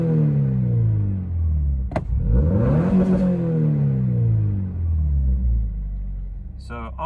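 A car engine, warmed up and fitted with a lighter crank pulley, revs hard close up at full throttle, its roar sweeping up in pitch, dropping, then climbing again as the throttle is held open.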